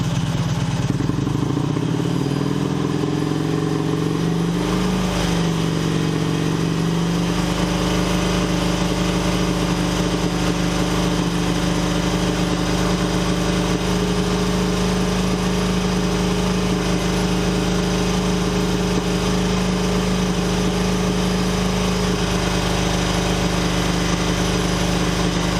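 An Excelsior Henderson Super X motorcycle engine, warmed up, is held at around 3,000 RPM: a loud, steady, close droning roar after a brief rev-up, with no talk over it.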